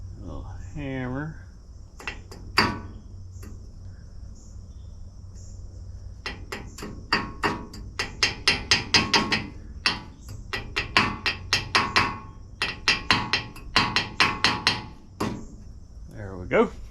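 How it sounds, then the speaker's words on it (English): Metal hammer strikes ring out on a square-body Chevrolet Suburban's suspension while a cotter pin is being fitted. Quick rapid bursts of close taps come in clusters, with a brief voice and a few scattered knocks before them. "Hammer."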